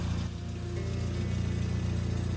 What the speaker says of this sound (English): you can hear the wastegate flapper jerking around